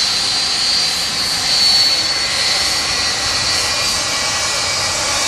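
Atlas Air Boeing 747 jet at Manchester Airport, a loud, steady engine roar with a high whine that swells slightly midway and holds throughout, with no talk over it.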